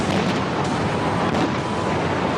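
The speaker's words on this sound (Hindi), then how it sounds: "आतिशबाजी का शानदार मुजाहिरा करके नए साल को वेलकम किया गया।" A dense roar of New Year fireworks bursting over Moscow, loud and continuous, with overlapping crackles and booms merging into one wash of noise.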